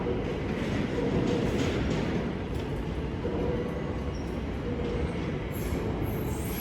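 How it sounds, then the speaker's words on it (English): A London Overground train departs a London terminus, its steady rolling rumble and faint wheel noise carrying at moderate distance without talk. "Also heading off is the 1717 London Overground service to"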